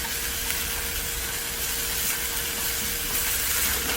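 Meat being stir-fried in a pan for chiljeolpan, a Korean platter dish, during a cooking skills exam: a constant, close, dense sizzling hiss with no pauses and no voices.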